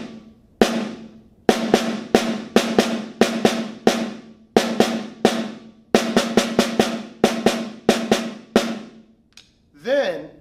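Snare drum played alone at a slow tempo in a percussion exercise, a steady pattern of crisp, close strokes with clusters of quick hits, followed by a brief voice at the end.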